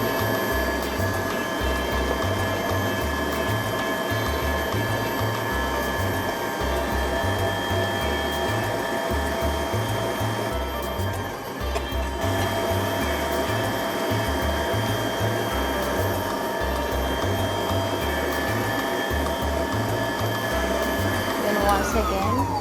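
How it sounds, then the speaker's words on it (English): An electric mixer beats chocolate cake batter with a continuous, loud motor whir and a pulsing low churn that holds steady throughout. "So while it's mixing, we can add the eggs"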